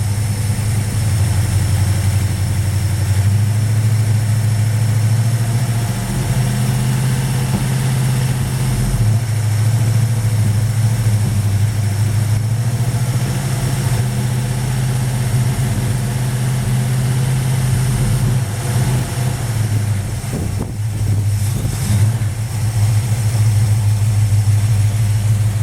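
A 1976 Plymouth Duster with a 360 V8 runs steadily near the microphone, a deep, loud idle with lumpy low rumble and slight throttle variation throughout, no talking.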